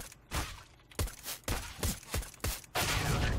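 Several sharp gunshots from a CS:GO match in a 1v1 duel, fired in separate spaced bursts with a longer sustained spray near the end, close and loud with no talking.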